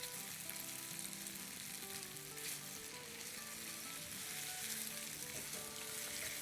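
Thinly sliced arbi (taro root) frying steadily in hot oil, a dense continuous sizzle with occasional soft stirring scrapes, close and loud throughout.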